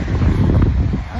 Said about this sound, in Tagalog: Ang hangin.